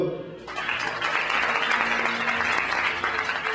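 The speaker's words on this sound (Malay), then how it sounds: "tepuk tangan dulu" An audience breaks into steady, sustained clapping that starts abruptly and continues evenly, fairly close and loud.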